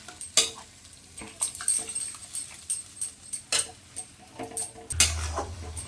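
Mutton curry being stirred and fried in a pan on a gas stove, with a spoon or spatula repeatedly scraping and clinking against the pan in an irregular rhythm over a low sizzle, close by and without talk.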